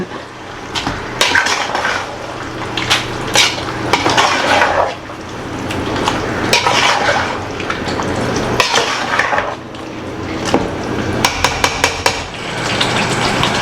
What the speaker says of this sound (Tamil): ஊற்றிட்டு நல்லா கிண்டுங்க